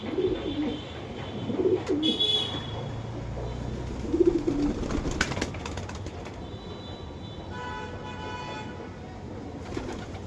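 Soft, low cooing of pigeons comes in a few short bursts over a steady background, with a brief flutter and faint chirps nearby.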